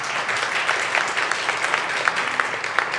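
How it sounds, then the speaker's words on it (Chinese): Church congregation applauding together at a prayer meeting, a steady, dense wash of clapping that holds evenly throughout without pauses. "来拍手一下，感谢神。"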